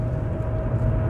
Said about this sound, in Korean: 지금 위에는 계속 헬기 뜨는 소리가 들리고